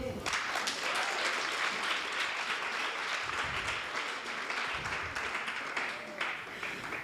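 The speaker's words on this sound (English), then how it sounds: "So another big round of applause to you." An audience at a maths programme launch gives tutors a sustained round of applause, dense clapping that continues steadily before tapering off near the end.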